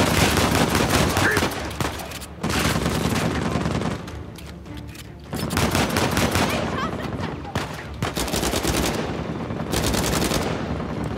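Rapid automatic gunfire in the video game Uncharted 4 comes in long dense bursts separated by short gaps, loud and close, with voices talking faintly underneath.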